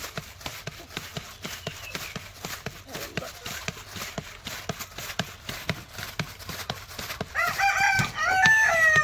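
A rooster crows loudly near the end, after a steady run of rhythmic clip-clop knocking and soft background noise.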